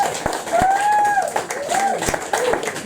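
An audience at a poetry reading applauds poet Chloe, a dense patter of clapping with a few sharp individual claps, heard under a voice speaking over it.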